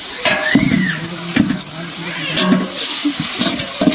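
Ginger garlic paste stirred and frying in a pan, with a busy sizzle and scraping stir strokes repeating throughout at close range, joined by clattering utensil knocks.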